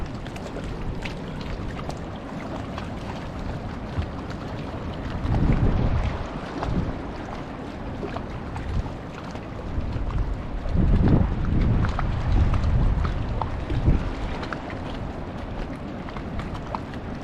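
Wind gusts across open water, a steady low rumble with heavier surges swelling in midway and again later, close and loud against the microphone, with no voices.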